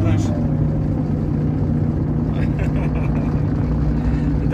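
A glider's small electric motor runs steadily in flight, a continuous close drone with a low hum and broadband whir that holds level throughout.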